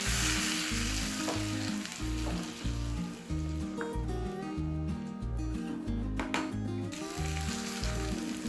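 Hot tempering sizzles loudly as it is stirred into Kerala-style mathanga erissery pumpkin curry, a steady close frying hiss running throughout with rhythmic stirring and scraping.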